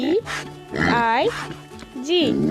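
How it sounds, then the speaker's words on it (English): Pig oinks arrive as several quick snorting grunts in short bursts, close and fairly loud, mixed with squeaky, voice-like inflections. "Pig."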